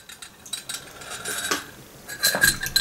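A spoon held in a trembling hand clinks repeatedly against a cup of sweet Abkhazian black tea, with small, uneven, close metallic taps and rattles.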